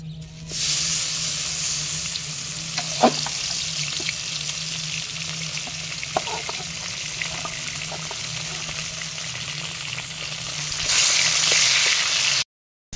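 Fish frying in a pan gives a steady, broad hiss and sizzle that runs for most of the span, with a few faint clinks and a low hum underneath, and it swells louder near the end before cutting off.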